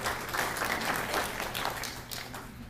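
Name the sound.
audience applause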